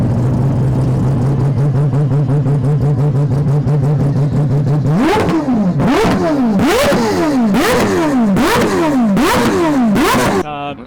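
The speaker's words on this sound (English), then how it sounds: "they're going to start these 4 rotor cars, and Dan will be able to hear one" A four-rotor rotary race car at an enthusiast gathering idles with a buzzing, raspy tone, then revs hard in a series of sharp rising-and-falling blips, loud and close, ending abruptly.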